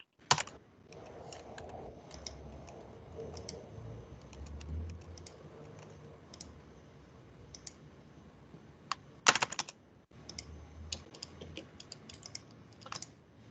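Typing on a computer keyboard, rapid close clicking of keys in uneven bursts with brief pauses, including a louder flurry of keystrokes near the end.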